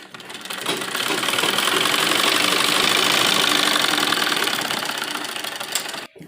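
A sewing machine stitches a heavy suit with its lining, running in one continuous, loud, fast-clattering burst for several seconds before stopping abruptly.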